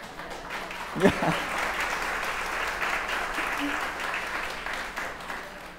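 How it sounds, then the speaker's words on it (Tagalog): A church congregation applauds in a sustained, even wash of clapping for several seconds. "Yung palakpak na yun hindi para sa akin, yun palakpak para kay Lord."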